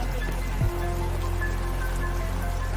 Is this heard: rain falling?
yes